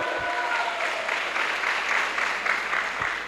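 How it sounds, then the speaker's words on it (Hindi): Strong applause from a show audience in Hindi, a steady dense wash of clapping that holds at an even level for the whole stretch, with no voices over it. "उनके लिए एक बार जोरदार तालियां, जोरदार तालियां दोस्तों।"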